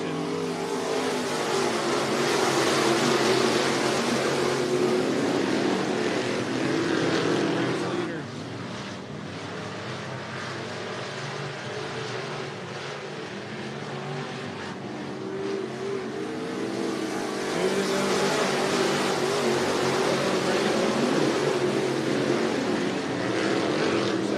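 Dirt track race cars lap Cottage Grove Speedway in Cottage Grove, Oregon, producing a continuous loud engine roar that swells, dips for a stretch and builds again as the pack passes, with an announcer talking over it.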